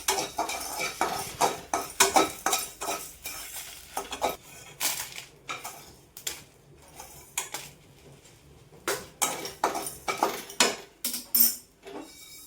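Coarse rock salt is dry-roasted in a pan, giving a steady run of gritty scraping and clattering bursts as it is stirred, close and fairly loud with short pauses between strokes.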